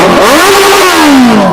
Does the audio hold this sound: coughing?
no